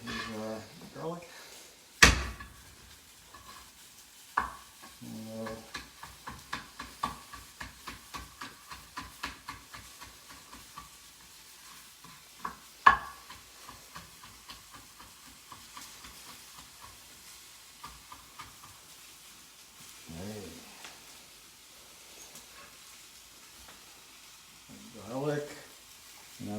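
Garlic fries in a pan for an orange tofu stir-fry: a soft, close sizzle runs under a person talking, broken by quick stirring clatters and sharp utensil knocks.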